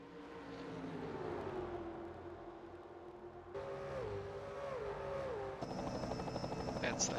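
A helicopter hovers over a 2006 NASCAR race track during a broadcast, a steady droning rotor and engine hum that shifts pitch midway, with commentators talking over it and race car engines rising toward the end.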